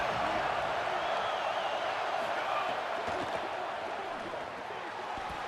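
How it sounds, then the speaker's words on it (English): Stadium crowd noise from the EA Sports College Football video game during a third-down defensive stand, a dense, steady roar that builds and holds, moderately loud with no talk over it. "Decibels rising as the crowd gets behind this defense on 3rd down"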